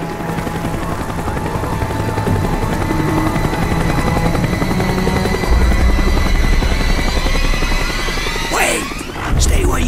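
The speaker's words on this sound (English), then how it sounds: "The chopper is coming around again." A helicopter flies around in the video game Call of Duty Black Ops, its loud, steady rotor thrum and engine whine running throughout, with a sweeping pass near the end and game voices under it.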